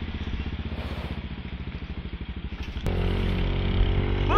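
A motorcycle on a city ride chugs at low speed with a rapid pulsing engine beat, then accelerates into a smoother, louder drone, close and alone.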